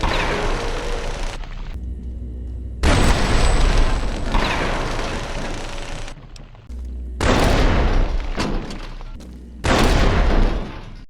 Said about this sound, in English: Back to the flashbangs.